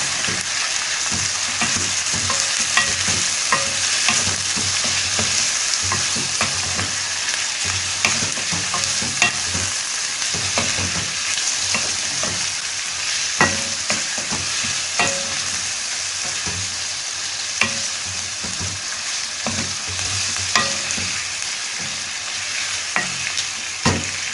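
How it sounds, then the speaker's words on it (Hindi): Chicken frying with onions in a pan, a continuous close sizzle broken by repeated scraping stirs and light clinks of a utensil throughout, with no talking. "इन प्याज़ों के अंदर ही आपने चिकन को फ्राई करना है।"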